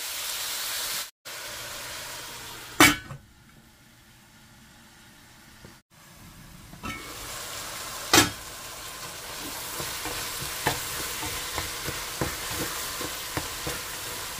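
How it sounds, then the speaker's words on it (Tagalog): Tomatoes fry in a pan while being stirred, a steady sizzle broken by scraping strokes and sharp clacks of the utensil against the pan, with the stirring becoming quicker and more rhythmic toward the end. "Haluin, stir or mix it hanggang sa maluto yung kamatis."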